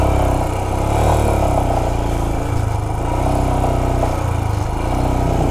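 A motorcycle engine revs hard with its wheels stuck in mixed gravel and sand on a mountain road in Ladakh, giving a loud, steady, close engine drone that rises and falls slightly, with no voices.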